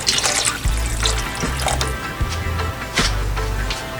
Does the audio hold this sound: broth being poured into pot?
yes